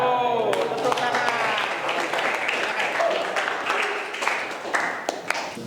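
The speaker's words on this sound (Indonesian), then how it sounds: "Bravo, tepuk tangan." Classroom of students claps after a group presentation, a brief scattered round of applause that thins out and fades, with a voice speaking at the start.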